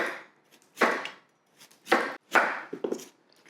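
A knife chops vegetables on a cutting board in a home kitchen making a soul food veggie plate, several separate sharp thuds with uneven gaps, close and clear, with no talking.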